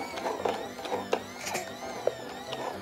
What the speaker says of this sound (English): This toy vacuum, does it really vacuum?